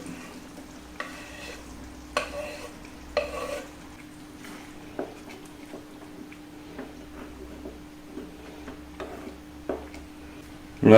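A curry of potato and tomato with green peas is stirred in a pot, soft scraping strokes and a few clinks of the spoon against the vessel recurring at intervals over a low simmer, near and quiet.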